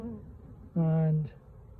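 A short, loud, steady buzz of honey bees at a hive from close by lasts about half a second and is followed by quieter background hum.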